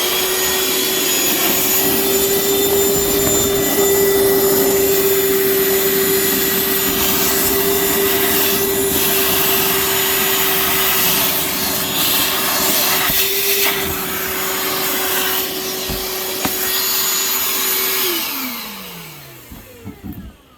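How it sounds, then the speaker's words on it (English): Ryobi 18V One+ 3-gallon wet/dry vacuum running loud and steady while sucking water from a bucket, with a strong whining motor tone and rushing airflow, its pitch dropping as it spins down at the end. "we'll turn on the vacuum and see how fast it removes that water out of this bucket"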